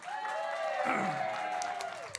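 A crowd cheers and applauds at the Orange Blossom Social, a dense burst of clapping and shouting lasting about two seconds, with a sustained tonal voice-like sound running through it and a loud swell near the middle.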